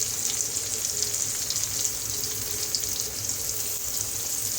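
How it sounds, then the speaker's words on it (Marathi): Prawns coated in semolina and rice flour fry in hot oil with a continuous, even hiss and crackle, close and moderately quiet, with no talking. "त्यात पण सगळ्या कोलंब्यांना फ्राय करून घेऊ. मस्त अशा फ्राय होतात."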